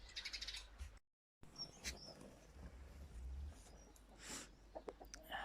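Faint birds chirping outdoors, scattered short tweets and calls over a soft ambient hiss, with a brief dropout early on.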